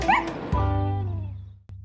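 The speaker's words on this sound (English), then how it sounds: "It's the first dog I've ever petted." A dog gives a short, high whimpering yip followed by a drawn-out, wavering whine while being petted, close and fairly loud, ending with a soft thump.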